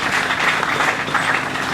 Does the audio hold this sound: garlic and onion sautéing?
no